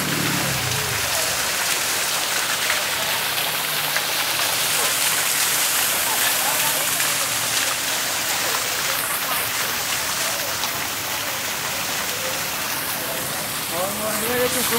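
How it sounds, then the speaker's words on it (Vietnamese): Steady rain falls outdoors during Christmas preparations at a parish, a dense, even hiss of drops on surfaces that lasts the whole time, with voices talking now and then beneath it. "Cả hai đám mây tuyết bay tạo thành mưa luôn."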